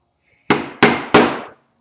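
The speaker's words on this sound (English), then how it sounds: "I'm going to take my Buckstitch chisels. I'll start just a little bit away from the corner here." Three sharp, evenly spaced strikes of a mallet on Buckstitch chisels punching stitch holes in leather, each a crisp close impact with a short ringing decay, alone.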